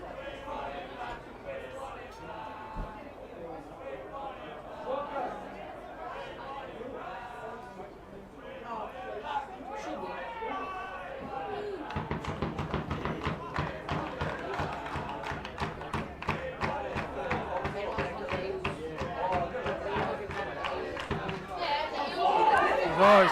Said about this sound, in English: you're sitting right amongst the crowd here, so there's a fair bit of crowd noise